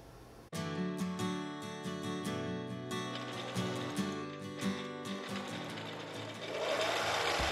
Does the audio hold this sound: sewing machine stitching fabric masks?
yes